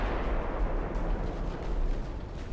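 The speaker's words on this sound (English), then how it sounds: "The Pennsylvania decides to pitch in with her own torpedo tubes." Torpedo tubes firing from the warship Pennsylvania in the naval battle game Ultimate Admiral Dreadnoughts, a continuous loud rumbling boom of naval gunfire and launches filling the whole stretch with no voices.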